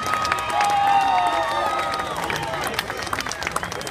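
Parade spectators at a Greek Independence Day parade in Boston cheer and applaud a Cretan association marching past, a dense, loud crowd roar with claps and shouts, while a voice talks over it.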